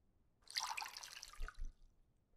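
Water pours onto tomato plants in the survival game No One Survived. A brief, faint splash and trickle fades out, followed by two soft low thuds, with no voices.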